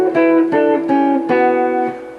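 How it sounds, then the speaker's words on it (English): Two guitars play a 1-5 harmony in the Aeolian mode, sounding a short phrase of about five plucked notes in steady rhythm, clear and close with no talking. "So you can have guitar 1 play from the root note and guitar 2 playing from the 5th, giving you 1-5 harmony"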